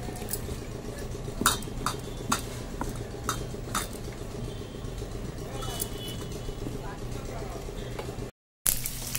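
Batter for brinjal pakoda being mixed in a bowl, continuous soft stirring with scattered clinks of utensil against the bowl, close and steady, while a person talks over it.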